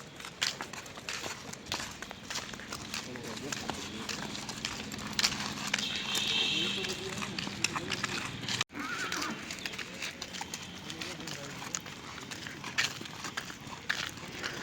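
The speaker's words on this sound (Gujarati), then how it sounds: "મિત્રો આ ઘોડાનો પગ ભાંગી ગયો છે" A horse, said to have a broken leg, whinnies and shifts its hooves during loading into a vehicle, with steady rumbling background noise throughout and a brief dropout partway through.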